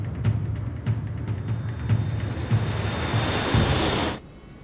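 Dramatized airliner engines at takeoff thrust, a loud broad steady roar with a faint whine and regular thumps, holding strong for about four seconds and then cutting off abruptly, no talk.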